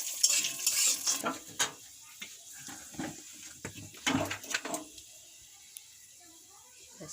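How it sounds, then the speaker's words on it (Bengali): Cashews and raisins frying in ghee, with clinking spoon strokes against the pan and a soft sizzle, loudest at the start and in bursts midway, then quieter; faint voices can be heard in places. "কাজু কিশমিশটা ঘি দিয়ে ভেজে নিচ্ছি"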